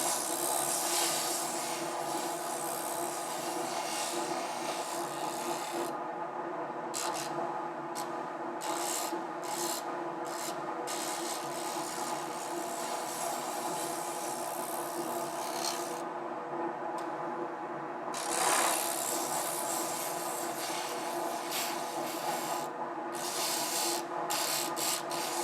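Hand-shaping a wooden spoon with a rasp or file: a steady, close scraping and rubbing of tool on wood in continuous strokes, with a few short pauses between passes, moderately loud and alone.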